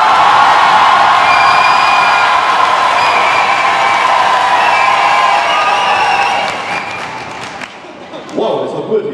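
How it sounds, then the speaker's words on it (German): Audience applause and cheering at a poetry slam in Linz, a dense wash of clapping and whoops from a large crowd that holds steady for several seconds, then thins out and fades near the end. "5 Sekunden, mega Applaus, wenn ihr wollt, dass der Hans genommen wird"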